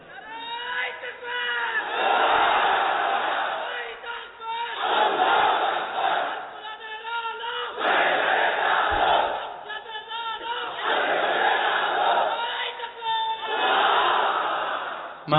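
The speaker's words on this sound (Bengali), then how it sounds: "তাকবীর পড়েন তো দেখি, আল্লাহর নামে পড়েন, লিল্লাহে তাকবীর" A large crowd at an Islamic religious gathering chants the takbir, Allahu Akbar, in loud repeated surges of massed voices, roughly every few seconds, alternating with a single call and response.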